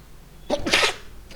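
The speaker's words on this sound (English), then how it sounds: "I'm just suffering from the cold, and that is why I'm just waiting for sneezing" A single loud, close sneeze from a teacher with a cold, a sharp burst in a quiet room.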